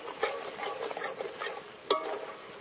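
Masala spice paste being stirred and fried in a pan in a village kitchen, a soft continuous scraping and stirring texture with faint sizzle and a sharp clink of a utensil against the pan near the end.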